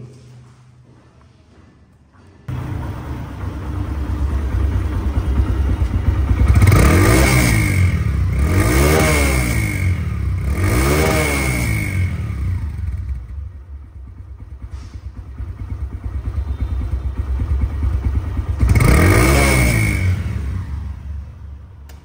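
A 2014 Suzuki Hayate 110cc motorcycle idles close by, its engine blipped in several rising and falling revs before settling back to a steady, even idle.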